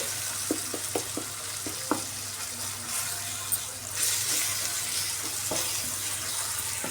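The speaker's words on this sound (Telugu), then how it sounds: "ఇప్పుడు ఒక బాగా కలుపుకొని రెండు మూడు నిమిషాలు బాగా మగ్గనిద్దామండి" Onion egg curry stirred in a pan as it cooks with garam masala: a steady soft sizzle punctuated by light clicks and scrapes of the spoon against the pan.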